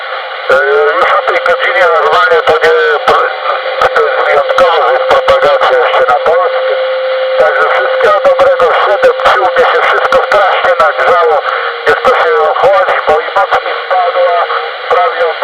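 Several faint amateur radio stations call over crackling shortwave, choppy and distorted with steady static and frequent clicks.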